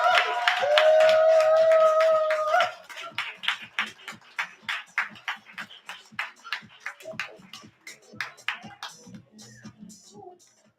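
An open-mic audience greets a performer taking the stage: a loud sustained cheer up front, then a run of sharp, separate hand claps that thin out and fade over several seconds.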